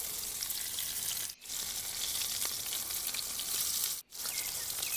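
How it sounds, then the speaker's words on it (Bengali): Fish frying in a pan at a night forest campsite, a continuous dense sizzle and crackle heard close, with two brief dips where the hiss drops out. "মাছ ভাজছি"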